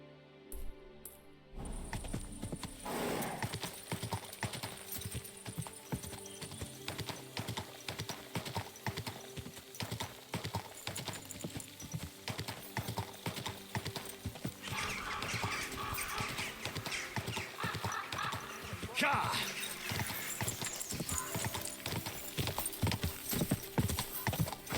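Horse hooves clip-clop steadily and continuously throughout a ride in the video game Kingdom Come: Deliverance II, loud and close, with a brief whinny breaking in over the rhythmic gait.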